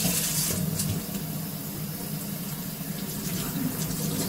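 Water from a tap runs steadily and close as an old bottle is rinsed out beneath it, a continuous splashing flow with no talking.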